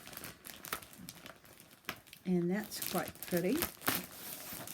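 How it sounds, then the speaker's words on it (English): Crinkling, crackling noise from material being handled close to the microphone, bursts of rustle scattered throughout while someone talks over it. "Sorry about the crackles."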